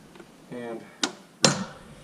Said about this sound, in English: So hammer or screwdriver, hammer, and I'm gonna put it right in that wedge right there.